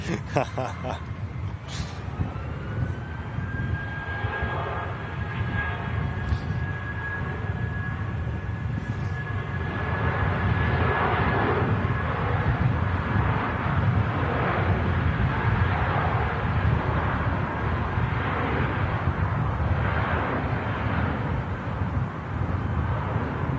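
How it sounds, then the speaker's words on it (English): An airliner taking off at Manchester Airport, a distant rising engine roar with a whining tone that swells and holds for over twenty seconds, with people talking nearby. "Taking off with Dark Star on Manchester Airport now"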